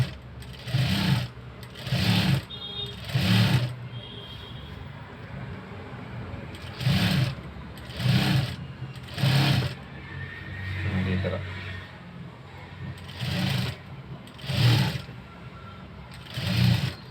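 A sewing machine runs in repeated short bursts of stitching while attaching a fall to a saree, close and steady, with pauses between runs. A quiet voice is heard in the gaps.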